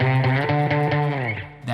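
A guitar note is poorly fretted because the string is not pressed down hard enough. It comes out as a buzzy, rattling, distorted tone with a fluttering, uneven pulse that fades quickly, played close up with no talking.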